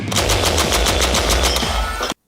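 An M3 Grease Gun submachine gun fires a continuous rapid burst of about a dozen shots at an even rhythm, loud and close, then cuts off abruptly.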